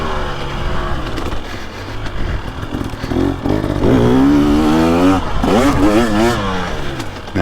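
Off-road two-stroke motorcycle engine, a 2023 Beta 300 Race Edition or KTM 300XC, revving on a GP loop, loud and close with rising and falling pitch sweeps and a voice talking over it throughout.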